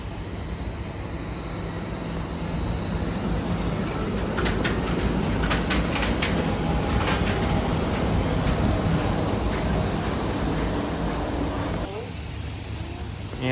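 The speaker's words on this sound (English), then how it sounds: "We have the monorail coming into view right now." An EPCOT monorail passes at a distance with a steady broadband rumble and whoosh through the garden festival grounds, accompanied by a few brief clicks and faint crowd murmur.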